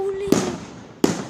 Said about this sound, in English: Today I am watching some fireworks and I'm at the glassworks.